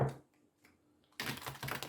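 A Crystal Visions tarot deck is shuffled in a short burst of crisp papery riffling and flicking cards, following a near-silent pause, close and fairly quiet.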